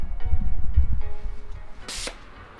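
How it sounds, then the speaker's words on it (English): A hand sprayer delivering insecticide into household crevices, one short hissing burst near the end after some low handling noises, close and moderately loud. "I'll spray into these areas."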